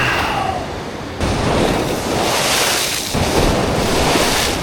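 Ocean waves break on the shore at a San Diego fishing beach, with loud, steady surf washing and crashing up close, mixed with rushing wind on the microphone.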